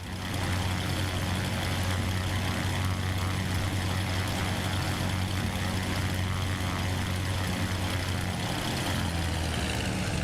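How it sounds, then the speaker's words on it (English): Aircraft engine in a Microsoft Flight Simulator 2024 replay, with the Black Square Duke, Inibuilds A320 or Cessna 152 on a New Zealand flight, droning steadily and evenly at a constant loud level with a deep low hum throughout, no talk. "The engine sounds different depending on the conditions."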